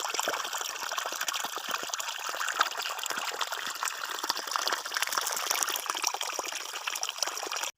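Water flowing from a solar-panel-powered pumping system in Tharparkar, a steady trickling and gushing stream heard close and continuous, with no talk over it.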